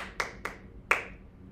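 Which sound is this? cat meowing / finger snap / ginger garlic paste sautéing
finger snap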